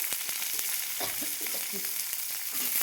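Chopped onion and green chilli fry in a pan on a gas flame for black chana masala, a constant sizzle with a few scraping stirs in the middle and no talking.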